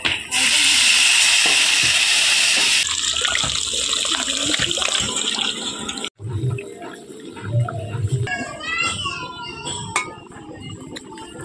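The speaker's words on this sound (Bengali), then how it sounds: "তো এবার জল দেবো।" Water is poured into a pan of Bengali fish curry with slit green chillies, a loud rushing pour for about three seconds, then fainter sizzling and bubbling with occasional clinks of utensils.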